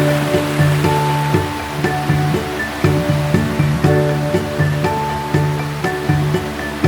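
Cerezuelo river waterfall in Cazorla, Spain, rushing as a steady, loud broadband roar with a rhythmic churning pulse, close and continuous throughout, no voices.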